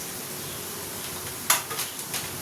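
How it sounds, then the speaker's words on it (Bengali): Spice masala of turmeric, Kashmiri chilli, cumin and coriander powders frying in a pan under a continuous sizzle, with a few scraping clinks of a spatula partway through. "মশলাটাকে আবার কষিয়ে নেব"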